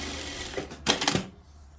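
Industrial sewing machine stitching, a brief, close burst of fast mechanical whirring and rattling that lasts under half a second before quieting.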